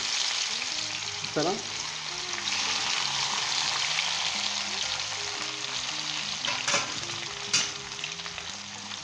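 Mango pieces for a Hyderabadi mango pickle fry in very hot oil, a loud continuous sizzle and crackle with a few sharper spatters and clinks. A voice speaks briefly near the start.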